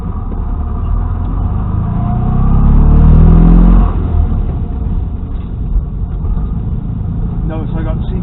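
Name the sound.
1970 Fiat 500L car engine pulling away in gear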